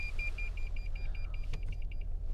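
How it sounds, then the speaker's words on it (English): A rapid, steady series of high electronic beeps from a 2025 Toyota Tundra TRD Rally repeats over a low engine hum, with a brief clunk partway through. "Turn that beeping off. Can I turn that beeping off?"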